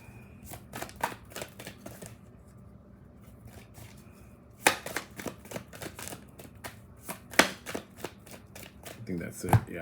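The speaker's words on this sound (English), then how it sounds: "I'm going to pull 6 cards and see" Tarot cards shuffled and drawn in a reading, a steady run of crisp riffling and snapping card sounds with sharper flicks as cards are laid down, close and clear, while a voice speaks at times.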